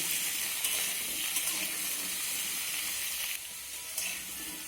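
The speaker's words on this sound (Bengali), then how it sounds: "এখন আমি আলু আর কুমড়োটাকে নেড়ে চেড়ে ভেজে নেব" Cut potato and pumpkin stir-fry in a pan over a high flame, a steady close sizzle with occasional scraping stirs and brief bursts of spitting.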